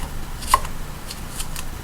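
A knife chops food on a cutting board, giving a few sharp, close taps spaced unevenly over a low background hum.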